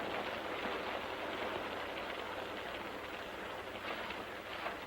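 Steady rain falls in a dense, even hiss, with no other sounds standing out.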